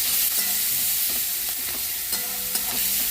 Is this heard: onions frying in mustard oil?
yes